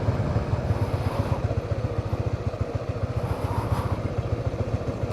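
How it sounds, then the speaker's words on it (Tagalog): A Honda CB150X motorcycle engine labors uphill with a steady, rhythmic low throb, loud and close throughout, with wind noise over it. "Kaya din ng motor dito siguro umakyat."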